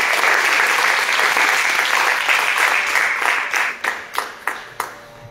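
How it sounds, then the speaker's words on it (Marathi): A concert audience claps loudly in dense, sustained applause for Kedar, a performer who memorised all the notation, before thinning into a few scattered, separate claps at the end. "सगळे पाठ करणाऱ्या केदारसाठी एकदा जोरदार टाळ्या वाजवा"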